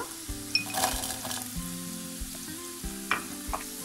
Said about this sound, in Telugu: ఇవన్నీ స్టవ్ని మీడియంలో పెట్టుకొని ఫుల్ రోస్ట్ అయ్యేంత వరకు ఫ్రై చేసుకోవాలన్నమాట